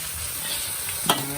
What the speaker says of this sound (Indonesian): Ya lagi goreng ono guys, lagi masak.